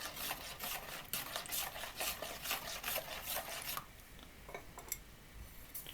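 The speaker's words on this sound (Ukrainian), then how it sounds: "Виливаємо кефір, додаємо соду, вимішуємо." Kefir and baking soda being whisked together for dough, a steady fast scraping and clinking rhythm in a bowl that slows toward the end, quiet and close with no voices.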